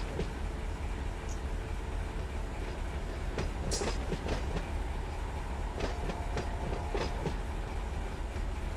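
Big locomotives running in the Run 8 train simulator game, a continuous low rumble with rhythmic rail clicks and brief metallic squeaks rolling steadily throughout.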